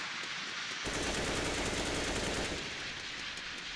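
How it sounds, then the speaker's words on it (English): Rapid automatic gunfire rattles loud and continuous in Counter-Strike: Global Offensive, on the Inferno map during a professional match, with dense bursts all the way through. "Cheeky wall bang for Taco, expecting someone to be up close"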